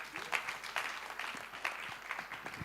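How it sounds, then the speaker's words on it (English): An audience at an international road safety conference in Uganda applauds, a steady faint patter of many hands clapping at a distance. "Another round of applause for him."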